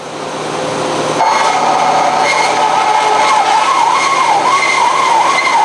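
Model 230 bandsaw with fence and pneumatic tension starting up and cutting a workpiece: a hum rises, then a loud steady whine with a wavering tone holds close and continuous, no speech.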